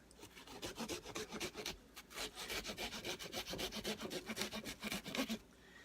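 A knife saws back and forth through the shell of a pumpkin while carving a jack-o'-lantern, giving a rapid, regular series of close rasping strokes over several seconds before it stops, with no talking.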